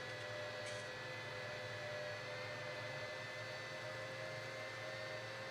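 An electric tractor in Farming Simulator 19 whirs steadily as it climbs a hill on the Swiss Erlengrat map, a continuous mechanical hum with a high steady tone running alone throughout.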